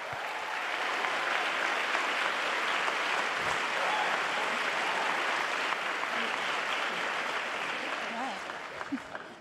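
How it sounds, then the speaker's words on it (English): An audience at an evening church celebration gives a round of applause, a full, sustained wash of clapping lasting around nine seconds that fades near the end with a few scattered final claps. "give them a round of applause"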